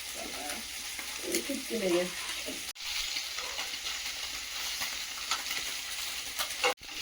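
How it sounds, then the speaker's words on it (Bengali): Small fish frying in a pan give a continuous close sizzle and hiss, with a few stirring scrapes and a brief break partway through. "এই ছোট ছোট মাছ এই ভাজা করে দিলে"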